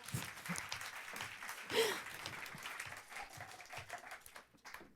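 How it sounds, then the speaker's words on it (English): Audience applause at a YESx talk on stage, a steady wash of clapping lasting several seconds at moderate level, thinning slightly toward the end, with a brief vocal sound near the start. "So I'm just going to give myself a round of applause."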